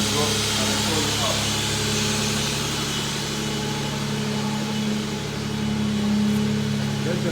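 A 2005 Nissan Pathfinder idles while warming up, its engine giving a steady, even hum close by with a faint fan-like whir, no talk in the clip.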